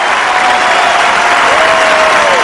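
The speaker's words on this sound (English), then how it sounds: "Big round of applause" A stadium crowd applauds as Edgar Davids leaves the pitch during a Juventus versus Real Madrid legends football match, a loud, dense wash of clapping that stays steady throughout with a faint whistle tone rising over it.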